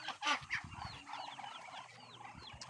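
A hen clucks softly and repeatedly, with a few short higher chirps mixed in, fairly close in a quiet outdoor setting.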